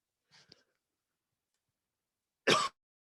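A single short, harsh cough bursts out loud and close after a brief faint throat noise and a stretch of near silence, then stops abruptly.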